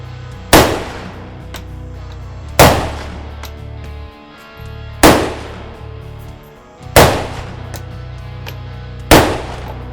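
Five loud, close gunshots from a Ruger Mini 30 rifle fired at a range, evenly spaced about two seconds apart, each with a sharp crack and a short ringing decay.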